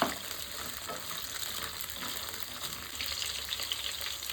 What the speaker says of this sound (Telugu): మీడియం సైజ్ మంట మీద ఫ్రై చేసుకోవాలి.